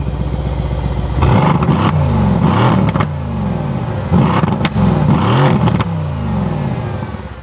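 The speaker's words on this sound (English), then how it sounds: "you will hear the engine, but you need to hear the exhaust" A 2017 Mercedes-AMG C 63 Coupe V8 with the P3 package revs hard twice, loud and close, each burst rising through the exhaust then dropping back to a rumbling idle between pulls.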